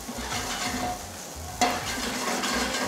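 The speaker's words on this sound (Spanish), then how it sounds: "En este punto le agregamos la cebolla y vamos a comenzar a saltear unos 20-30 segundos." Onion with garlic paste sautés in hot oil for a chicken or fish escabeche, a steady close sizzle with stirring scrapes and one sharper utensil knock midway, and no talking.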